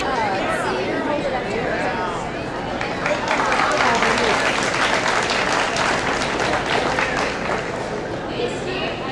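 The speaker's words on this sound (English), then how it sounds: "let's have another big round of applause and a standing ovation" Audience applause at an interview event honoring actress Dorothy Lamour, a dense wash of clapping with crowd chatter and voices mixed in, building slightly and sustained throughout.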